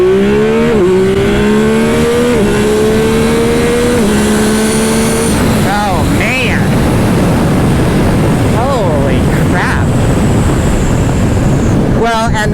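A 2025 Yamaha YZF-R9 sport motorcycle launches hard from a standstill, its engine note climbing through several quick upshifts before easing off, loud and close over heavy wind rush with a car nearby.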